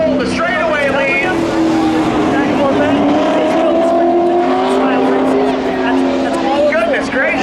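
A Corvette race car in a Memorial Day spectator race at Hudson Speedway roars down the speedway straightaway, its engine drone steady and loud throughout while an announcer talks over it.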